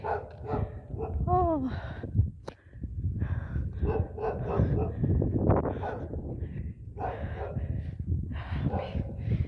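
Dogs yip, whimper and bark outdoors in a natural setting, close and fairly loud, with voices talking over the animal sounds.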